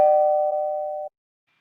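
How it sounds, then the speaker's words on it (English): A doorbell rings with a single clear, sustained electronic tone that holds for about a second, then cuts off into silence. "Doorbell's already ringing."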